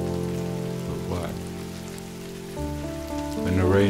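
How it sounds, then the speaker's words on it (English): Rain falls steadily in a soft, even patter beneath a sustained, mellow musical backdrop, staying gentle and close throughout with no voices. "Often the rain is associated with the negative."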